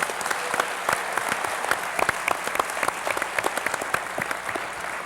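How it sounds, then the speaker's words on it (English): An audience applauds to welcome panelists onto the stage at a talk-back event, a steady, close round of clapping with sharp individual claps standing out over dense crowd noise for the whole span. "Please welcome our panelists with your applause."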